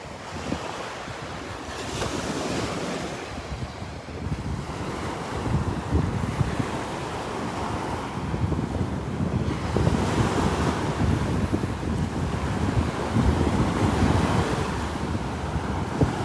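Wind and surf on the Gulf beach at Delnor-Wiggins, a steady rush of breaking waves under gusty wind buffeting the microphone, loud and continuous throughout with no talking.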